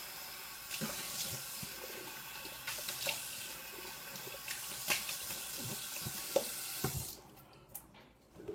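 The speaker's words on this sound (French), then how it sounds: "Rincer la main." Water running from a tap as a hand is rinsed under it during a traditional shave, a steady close splashing stream with small irregular splatters that stops abruptly near the end.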